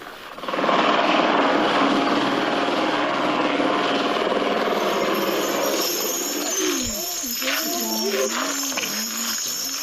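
Helicopter rotor and engine droning loudly and steadily nearby, with a high whine on top, while a person speaks over it in the latter part.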